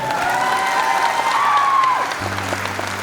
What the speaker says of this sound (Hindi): एक बार टीम चैंपियन के लिए जोरदार ताली होनी चाहिए